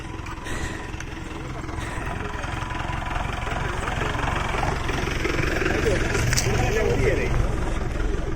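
A motorbike engine running on an offroad trail, a steady close drone rising slightly in intensity, with people talking over it.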